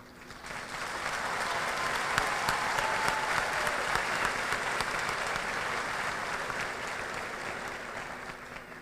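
A gymnasium crowd at a high school graduation ceremony gives sustained applause that swells up, holds full and thick for several seconds, then tapers off.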